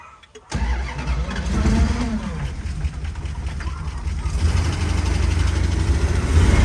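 A 1969 Dodge Dart 340 Swinger V8 cranks and fires up abruptly, then settles into a loud, rumbling idle that grows slightly heavier toward the end, with a voice briefly heard over the engine.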